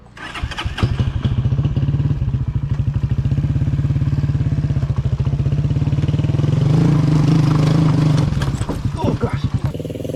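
Motorcycle crossing a broken bridge in the Caribbean, its engine chugging loudly and close at a steady throb for most of the stretch, revving slightly before easing off, with voices talking over it.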